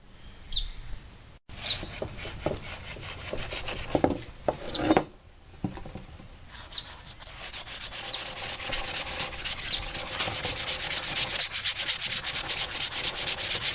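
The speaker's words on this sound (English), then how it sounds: "Mace, you want to try to sand down, just get all this loose rust off of these pieces." Sandpaper rasps over metal to remove loose rust from the pieces of a Snap-On JCN21 creeper stool. Scattered strokes come first, then quick, continuous rubbing grows louder and steadier toward the end.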